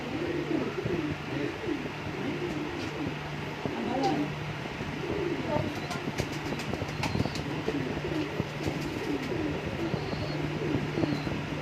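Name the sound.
Misri pigeons cooing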